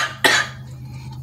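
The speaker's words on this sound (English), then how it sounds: "I just have a residual cough." A single sharp, close cough breaks a quiet room, followed by a faint second catch at the very end.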